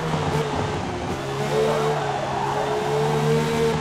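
BMW M1 Procar in the Forza Motorsport video game sliding through a steep uphill corner, a sustained engine drone with a faint tire scrub beneath, steady and moderately loud with no speech.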